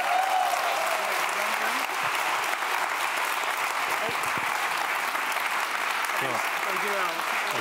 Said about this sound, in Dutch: En dan wil ik jullie vragen om nog een luider applaus voor de sprekers.